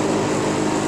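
A homemade cacao winnowing machine with a 4-inch fan blower, vibrator and meat grinder runs in a steady, loud, continuous mechanical drone and whir, close by with no talking.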